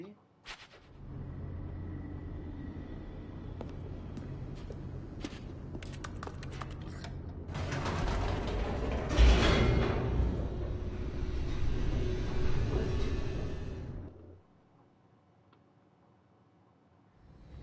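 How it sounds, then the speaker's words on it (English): Elevator in The Stanley Parable racing downward, a steady mechanical rumble and rattle that swells into a louder roaring descent before cutting off abruptly into near silence. "The elevator raced downward, plummeting towards an unknown fate."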